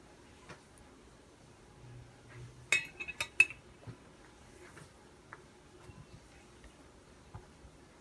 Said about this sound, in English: I'm going to swirl and mix the solution.